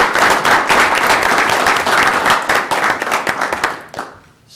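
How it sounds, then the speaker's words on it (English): An audience gives a round of applause for three students being honored at a ceremony: dense, steady clapping from many hands that holds for about four seconds, then quickly thins and fades out. "Put a round of applause for these 3."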